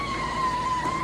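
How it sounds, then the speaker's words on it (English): A car braking to a halt, a steady high tire squeal holding over a low rumbling engine, loud and continuous throughout. "A car!"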